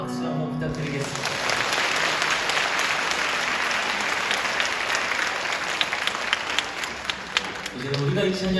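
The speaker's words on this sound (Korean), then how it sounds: "박수 한번 부탁드리겠습니다." A church congregation at a praise concert claps in a steady, loud burst of applause lasting several seconds, with voices and cheers mixed into the crowd.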